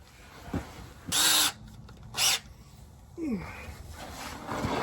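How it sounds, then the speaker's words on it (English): A power drill with a step drill bit enlarges pilot holes for a trailer hitch on a Squarebody Chevy, whirring in two short bursts, about a second and then half a second, with quieter workshop noise and faint shuffling around them. "got the good old Harbor Freight step drill bit"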